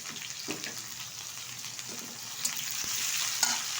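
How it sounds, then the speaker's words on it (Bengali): Chopped onion hitting a hot tempering for red lentil dal, a steady bright sizzle with occasional stirring scrapes, close and continuous, swelling slightly toward the end. "এখন দিয়ে দেবো এর মধ্যে কুচিয়ে রাখা পেঁয়াজ"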